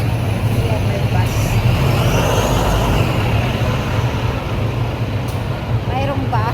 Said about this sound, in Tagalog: Ayan, may bus.